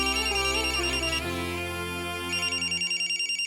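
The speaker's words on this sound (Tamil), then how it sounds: "சித்தப்பா தான் ஃபோன் பண்றாரு." An incoming-call ringtone plays on a phone, a loud melodic electronic tune with layered tones that shifts into a repeating pulsed pattern near the end, heard alone.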